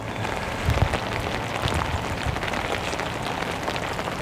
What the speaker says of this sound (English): But with it raining